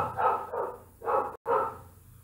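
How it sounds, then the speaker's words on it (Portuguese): A neighbor's dog barks four times in the background, short muffled woofs in an uneven rhythm, fairly faint and distant with no talk over it. "Você vai escutar o cachorro no fundo, não tem o que fazer."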